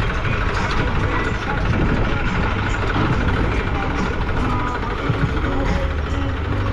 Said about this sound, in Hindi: वो दूसरा ट्रैक्टर आ गया